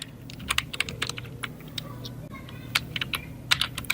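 Computer keyboard typed on while entering text in Photoshop, quick irregular key clicks in short bursts, close but fairly quiet over a faint low hum.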